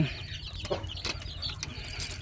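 Chickens cluck steadily at feeding time, a busy mix of close clucks over a constant scratchy background with scattered clicking knocks.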